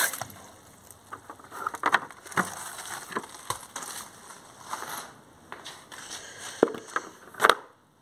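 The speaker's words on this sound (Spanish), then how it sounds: "Vamos a echar un poco de agua." Water is poured into a bucket to start a microcement mix, a steady splashing pour with irregular bursts and knocks, moderately loud and close, with no talking.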